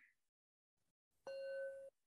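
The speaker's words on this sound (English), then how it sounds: "And let's do the bell." A meditation bell is struck once over a Zoom call, giving a clear metallic ding that sustains briefly before being cut off abruptly, heard faintly and alone.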